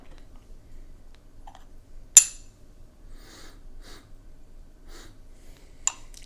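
A person sniffs the aroma of ripe pu'erh tea, with a few soft, close nasal inhales spaced apart in quiet surroundings and a brief clink of a tea vessel.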